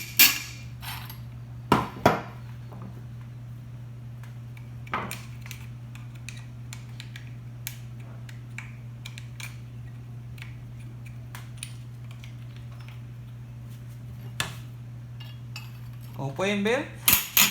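Sharp metallic taps ring out on stuck screws of a Karcher K4 pressure washer: a few spaced strikes over a steady low hum, with a cluster of clicks and knocks at the end, while someone speaks briefly in Spanish.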